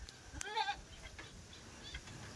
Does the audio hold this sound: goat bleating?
yes